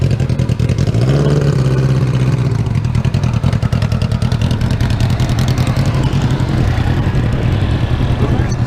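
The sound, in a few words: small dragster engine revving at drag strip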